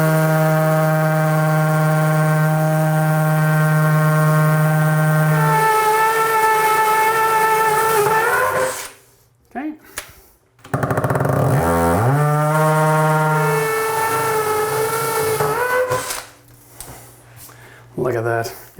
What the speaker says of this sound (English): Now we're gonna put this on low speed and on hammer drill